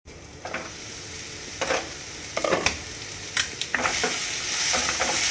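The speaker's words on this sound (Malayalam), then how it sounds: "നന്നായിട്ടൊന്ന് ഇളക്കി 5 മിനിറ്റ് സമയം അടച്ചു വെച്ച് വേവിക്കും." A spoon stirs Kerala-style olan of jackfruit seeds and snake gourd in a pot, giving irregular scraping strokes over a soft background sizzle, close and moderately loud, with no talking.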